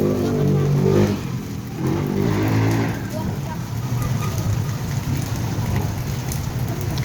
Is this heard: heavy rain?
yes